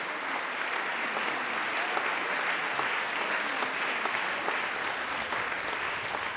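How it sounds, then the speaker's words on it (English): Sustained crowd applause for a new anthem to Derry at the Fleadh, spilling out into the city streets; a dense, steady wash of clapping that stays even and fairly loud throughout. "The applause for this new anthem to Derry spills out into the city."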